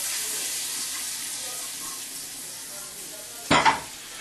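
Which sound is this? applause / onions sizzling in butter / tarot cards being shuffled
onions sizzling in butter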